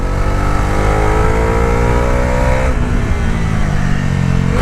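A Bajaj Dominar 350 motorcycle engine running in third gear while riding, a loud, steady mid-pitched drone whose tone climbs with rising revs, drops abruptly at a shift or throttle change, then continues close and continuous.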